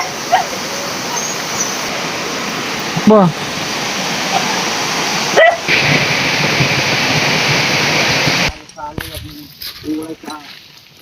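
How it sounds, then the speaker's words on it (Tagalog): Heavy rain pours down in a forest, a loud, dense roar that runs for several seconds and then drops away, with brief voices breaking through the downpour. "Malakas na ulan."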